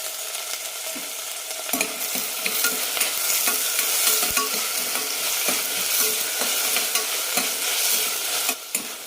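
Tomato, green chillies and curry leaves sizzle in hot oil for a sweet potato kurma, a constant close frying hiss broken by repeated scraping stirs of a spoon against the pan.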